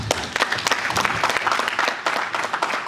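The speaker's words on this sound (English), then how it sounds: "Big round of applause for Clement and Fifi" Audience applause at an insurance conference, dense close clapping from many hands held at a steady level throughout, with no voices over it.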